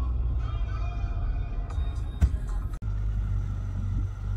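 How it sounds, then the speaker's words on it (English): A Mazda MX-5 race car's engine rumbles low and steady nearby, with a sharp knock and a brief dip partway through before the deep drone carries on. "MX-5 race car."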